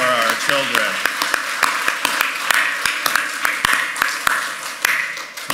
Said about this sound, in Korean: let's give another hand for our children.